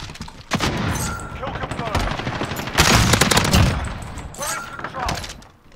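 Rapid automatic gunfire from a picked-up weapon in the shooter game Modern Warfare, with loud sustained bursts and dense, echoing fire, some brief breaks, and faint game sounds underneath.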